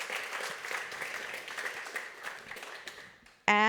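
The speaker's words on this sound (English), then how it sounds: "Huge round of applause" Conference audience claps after a talk on a PHP and SQLite search engine, steady applause fading gradually before a sharp tonal jingle cuts in at the very end.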